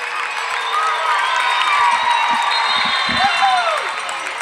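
Indoor soccer arena crowd at a Wichita Wings versus Colorado Rumble game cheering and whooping loudly in a sustained roar, with a few claps and shouts rising out of the din.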